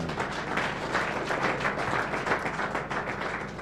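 Dense, steady applause from a crowd, many hands clapping together without pause for a few seconds.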